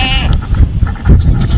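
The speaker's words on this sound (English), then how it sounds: "Goat's so funny, bro. They're so cute, bro." A docile goat, one of several kept for Eid al-Adha, lets out a loud, close bleat at the start, followed by rustling and low, close handling noise.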